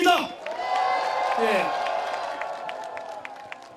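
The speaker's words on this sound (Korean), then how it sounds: "큰 박수로 맞이해 주시기 바랍니다." An outdoor rally crowd in Changwon applauding and cheering as a presidential candidate is welcomed, steady clapping with scattered whoops that fade slowly, with a brief spoken word at the start.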